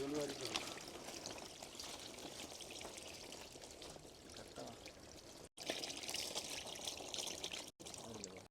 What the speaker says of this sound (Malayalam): അപ്പോൾ ഷീറ്റിൽ കൂടി ഞാൻ ഒഴിച്ച് വിട്ട് ഞാൻ കാണിച്ചു തരാവേ.